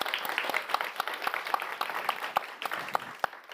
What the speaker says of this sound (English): You're right, that does deserve a round of applause